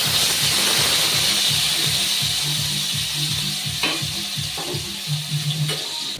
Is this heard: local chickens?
no